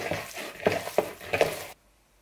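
Pieces of chicken tossed with oil in a wok give several short scraping, sizzling stirs at close range, and then the sound stops abruptly.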